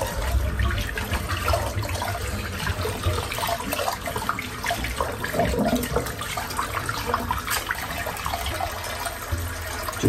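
Water runs steadily from a tap into a sink while hair is rinsed out after head shaving, a constant splashing, gurgling flow close by with no talking.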